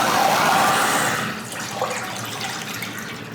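Water poured through a funnel into a steaming white sage distiller, a steady splashing pour for about a second that then fades to a softer trickle and quiet bubbling.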